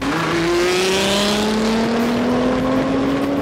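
A 2013 Nissan GT-R with a Meister catback exhaust, upgraded midpipe and turbo actuators drones loudly and steadily, its exhaust note climbing gradually in pitch as the car accelerates.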